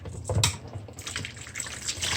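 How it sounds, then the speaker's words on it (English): Tamarind juice being poured out while making a homemade tamarind drink, a soft trickling, splashing pour heard close up with a few light clatters, no voices. "I'm pouring it out."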